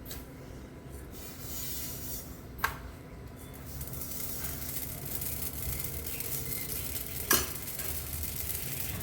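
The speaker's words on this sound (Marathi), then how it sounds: "किती लाह्या छान तडतड तडतड फुलतायत मस्त" Amaranth seeds popping in a wide pan, a steady faint sizzling crackle with two sharper pops standing out, close by and without speech.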